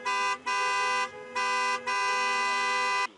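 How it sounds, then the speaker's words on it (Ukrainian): Car horns sound at a protest over vehicle customs clearance near a government building, long sustained honks in several bursts with brief gaps, fairly loud and unaccompanied by talk. "Привертають увагу клаксонами."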